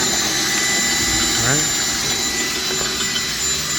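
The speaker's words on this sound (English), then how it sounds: "Drilling a hole for the ground wire for the engine mount" A power drill whines continuously up close, drilling a hole for a ground wire in a rat rod's engine mount, a steady grinding drone that holds for several seconds without stopping.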